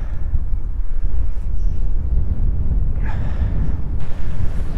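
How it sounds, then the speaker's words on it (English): Strong winter wind on a Lake Michigan shore, a loud, constant low roar buffeting the microphone with gusty swells and a few brief rustles, no voices. "It's like 20 degrees with a whole bunch of wind."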